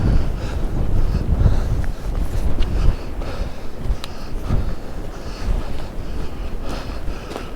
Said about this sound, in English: it's a bit too windy up here